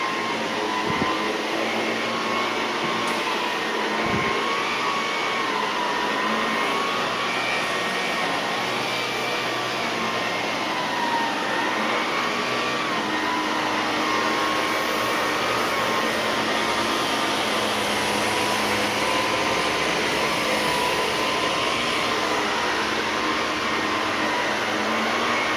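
An Electrolux Olympia One canister vacuum cleaner runs steadily in a house, its motor giving a continuous whining roar that stays loud and even throughout, with no speech.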